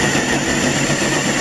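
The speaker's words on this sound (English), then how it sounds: "all you do is you get in here and you just run that drill" A power drill runs steadily while boring holes for cosplay spikes, a short, even mechanical whir held at moderate speed, close and continuous.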